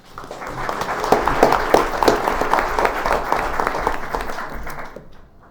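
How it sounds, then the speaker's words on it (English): A round of applause at a city council meeting, with crisp individual claps from a modest group that build quickly, hold steady for several seconds and then fade out. "we give them all a round of applause"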